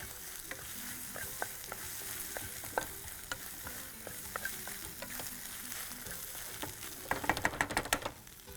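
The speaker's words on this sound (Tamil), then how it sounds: "இந்த வெண்டைக்காவை நம்ம மிக்ஸ் பண்ணிக்கலாம்." A spatula clicks and scrapes steadily against a pan as okra and egg fry is stirred over a constant low sizzle, the knocking quickening into a brief clatter near the end.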